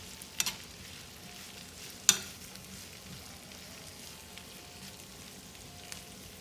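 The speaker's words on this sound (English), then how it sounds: "So now that our Brussels sprouts are sauteing, our garlic, we're gonna add in our Brussels sprouts" Brussels sprouts and garlic sautéing in a pan, a low steady sizzle broken by a few sharp utensil clacks near the start and middle, no one talking.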